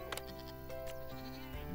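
Goats in the farming video game Farm Manager 2021 give several faint, short bleats over a steady, continuous game soundtrack, with no voices heard.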